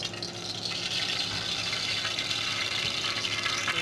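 Cooking oil is poured into a heated pot on the fire for Jollof rice, a continuous close splashing gush that runs steadily without talk.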